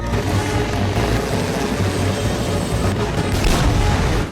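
In a movie scene, a squad of toy military helicopters launches an attack from under a dresser. Loud, continuous rotor roar mixes with booms and rapid gunfire-like bursts.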